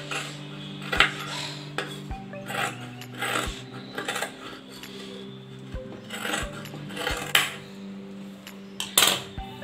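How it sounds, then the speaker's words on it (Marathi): Scissors cut cloth for a small baby dress sleeve: a series of sharp, close snips and clicks at an uneven pace, with soft rustling of fabric between cuts. "चला कट करून घेऊया।"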